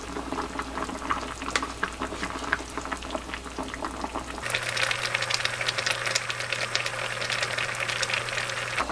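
Kimchi stew boils in a pot with a steady bubbling and gurgling that grows busier halfway through. A low hum sits under the bubbling throughout, and no one speaks.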